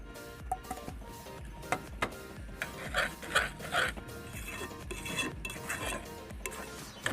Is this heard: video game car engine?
no